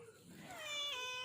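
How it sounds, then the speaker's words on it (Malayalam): A mother cat yowling at a dog, with rising, drawn-out meow-like cries that grow louder toward the end, close and fairly faint over a quiet background. "ഞങ്ങളുടെ തള്ളപ്പൂച്ച പട്ടയെ കണ്ടിട്ട് ബഹളം ഉണ്ടാക്കുന്നേ?"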